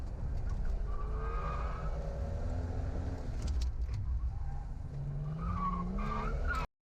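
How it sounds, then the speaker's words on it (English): Hillclimb race car driven hard at a sprint event, its engine loud and constant throughout as the rear wheels unload over a bump, lose traction and spin up with rising revs before the car hooks up and pulls away again. "the rear wheels lose weight and lose traction over that bump. It is very much unloading them and the wheels spin up and then it goes again"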